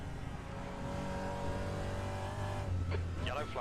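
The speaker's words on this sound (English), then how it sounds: "Apart from the force feedback, probably the sound of the cars in this, I really, really like it." Race car engines drone and rev in the RaceRoom racing game, a steady loud whine that shifts pitch as gears change, with someone talking over the engine noise.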